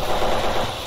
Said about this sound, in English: I do love the sound of gunshots.